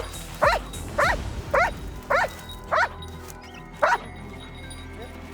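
A Paris fire brigade search dog barks six times in sharp, evenly spaced barks, close and loud over quiet background noise.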